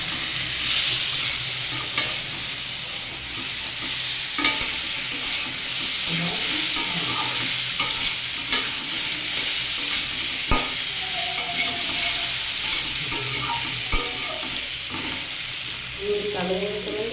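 Pumpkin pieces fry in oil tempered with black cumin seeds, a continuous bright sizzle with intermittent spatula scrapes and taps against the pan, steady and close throughout.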